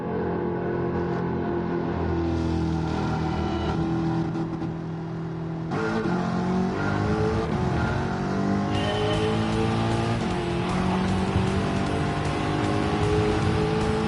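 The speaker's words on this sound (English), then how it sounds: "God, that supercharger noise is copiously loud." Supercharged race car in Gran Turismo 7: a loud, close engine whine that climbs through repeated revving gear changes, with a harsh supercharger tone running over the steady engine roar and no voices.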